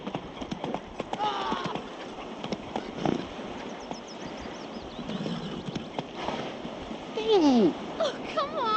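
Roach the horse galloping in The Witcher 3, a steady rhythmic clip-clop of hooves running under game dialogue and speech, with scattered splashing and environmental noise.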